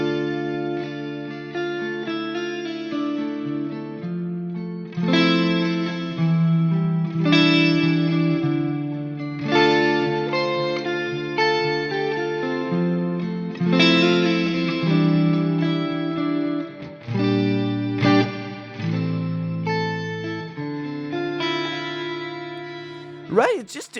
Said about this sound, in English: it's creating kind of a shimmer tone without using a shimmer reverb